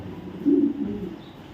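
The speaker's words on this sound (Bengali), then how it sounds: "কবুতর দেখেন" Black racing homer pigeons give a single low, soft coo close by, rising and fading over about a second against a quiet background.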